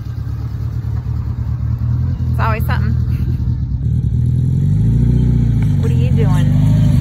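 A farm tractor engine rumbles steadily nearby while silage is loaded, a low droning hum that swells slightly as it revs, with people talking over it.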